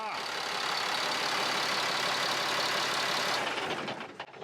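A diesel engine in an LMTV military truck idles steadily with a rough, loud rumble for a few seconds, then shuts off and winds down to quiet.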